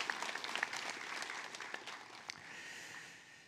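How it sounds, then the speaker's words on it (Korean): A church congregation applauds during a Sunday worship service, a steady wash of many hands clapping that is faint and distant and fades toward the end. "하나님 아버지께 영광의 박수 올려드리겠습니다"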